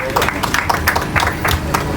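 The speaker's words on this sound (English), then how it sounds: "Please, another round of applause for Lola." Applause from an audience at an outdoor estate launch event, a steady patter of clapping over two seconds with voices talking through it.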